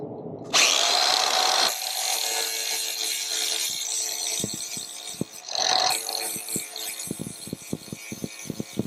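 A power tool fitted with a resin sanding disc grinds metal on a vintage 1979 XR80 barn-find motorcycle. It gives two loud, harsh bursts with a short pause between them, then a series of sharp taps and clicks.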